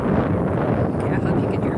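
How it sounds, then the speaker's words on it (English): Heavy wind buffets the microphone with a dense, rumbling roar, constant and close, lasting the whole short moment. "Oh my God, it's windy."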